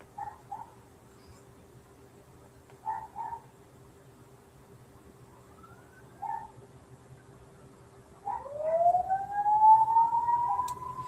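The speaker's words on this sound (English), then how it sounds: "Sorry for the sirens." A siren sounds in the distance, starting as brief faint chirps and then rising into a longer, louder wail toward the end, over a low steady hum.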